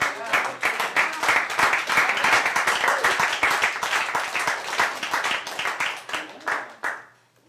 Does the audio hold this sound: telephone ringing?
no